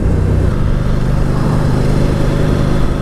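A 2019 Ducati Diavel 1260S being ridden, its engine giving a steady, smooth low drone with constant loudness and no gear changes or sharp revving, close and loud throughout.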